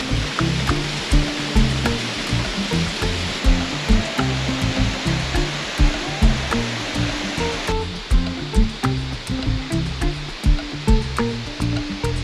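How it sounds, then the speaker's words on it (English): A Bali waterfall roars in a steady, dense rush seen from its base, loud and close with rhythmic surging pulses and no voices. "And that's how it looks from the bottom of the waterfall."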